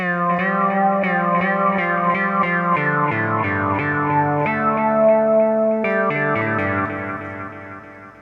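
A Roland System 1 Promars synthesizer melody with rich, buzzy tones whose pitch glides smoothly from note to note with portamento, steady and loud before fading out near the end.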